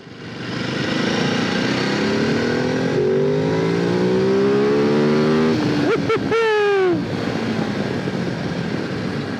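A 2022 Ducati Desert X motorcycle engine revs hard as it climbs past 6,000 RPM, loud and close, the rising pitch sweeping up through gear changes before a brief drop and another climb.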